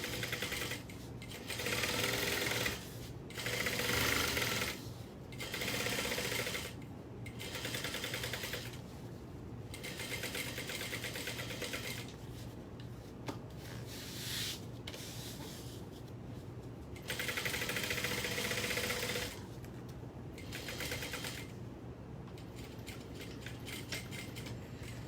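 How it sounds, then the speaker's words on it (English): A sewing machine basts a quarter-inch seam at close range, running in steady bursts of rapid stitching separated by short pauses as the fabric is guided around. "I'm gonna go ahead and baste it now. So just sew at 1/4 of an inch still around here to put it together."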